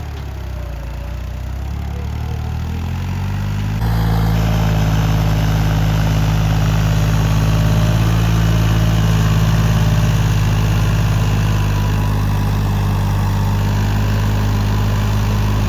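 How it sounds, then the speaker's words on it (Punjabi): A new New Holland 3600 tractor runs in a wet, muddy field, its diesel engine droning steadily and close, growing louder after a few seconds and holding a heavy, constant note. "ਖੇਤ ਗਿੱਲਾ ਜ਼ਿਆਦਾ ਬਾਈ ਟਰੈਕਟਰ ਵਿਚਾਰਾ ਕਿਆ ਕਰ ਓ ਅਮਨ"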